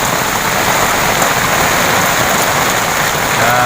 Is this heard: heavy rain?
yes